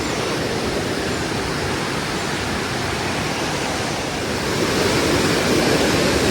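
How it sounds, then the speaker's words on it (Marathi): Rushing stream water flowing beneath a bridge near a riverside village temple, a dense continuous roar that swells slightly toward the end, heard alone and close. "इथे वाहणारा जो ओढा आहे त्याचा खळखळाट तुम्हाला ऐकू येत असेल"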